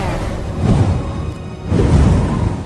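Airbending effect in an Avatar: The Rise of Kyoshi visual novel, two broad rushing whooshes of wind, one after another, close and fairly loud, each gusting up then easing, heard alone.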